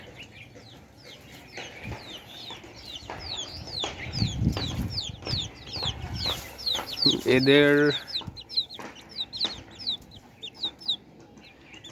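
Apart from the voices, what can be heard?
chickens and chicks clucking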